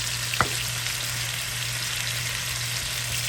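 A roux sizzles steadily in a pan, a constant close frying hiss with a faint low hum under it and a single light scrape of the spoon early on.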